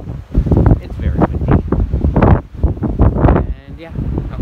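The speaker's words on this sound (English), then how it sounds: "It's very windy" Heavy wind buffets the microphone in loud, rumbling gusts, with a person speaking partly buried beneath the roar.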